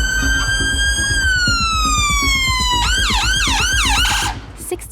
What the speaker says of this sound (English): Six-year-old Steve is being rushed in by ambulance after falling off a ladder while doing some DIY at home